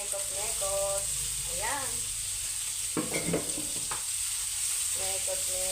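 Onion frying in a pan while being stirred, a continuous close sizzle with scraping stir sounds, heard under brief speech from a person in the room.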